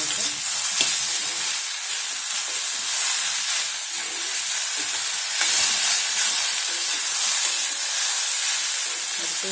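Okra (ladies' finger) stir-fries with salt in a pan for Tamil-style poriyal, giving off a steady, close, continuous sizzle and hiss with faint stirring scrapes and no talking.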